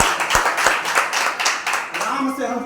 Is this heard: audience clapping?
yes